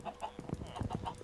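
Several short clucks and squawks from Minecraft chickens in quick succession, fairly quiet, with a few honk-like calls mixed in.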